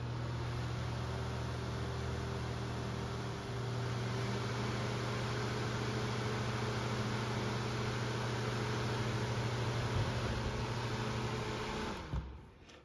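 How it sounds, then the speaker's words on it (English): A Honeywell fan heater running on high blows with a constant, loud rushing whoosh and a low motor hum for several seconds, then cuts off abruptly near the end. "the Honeywell fan runs a little faster on high and a little slower on low"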